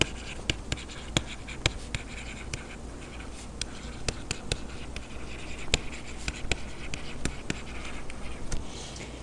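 A pen writing notes by hand on paper, close and fairly quiet: irregular scratching strokes punctuated by sharp little taps, steady throughout over a faint background hum.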